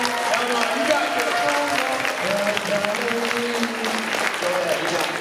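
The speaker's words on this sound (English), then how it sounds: "Give him a round of applause for getting up." Convention panel audience at Creation DC 2023 applauding, a sustained wash of clapping from the crowd mixed with cheers and voices talking over it.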